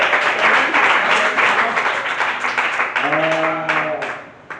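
A church congregation claps together in praise of the Lord, a dense, steady wash of applause that fades toward the end, with a sung or spoken voice rising over it near the close.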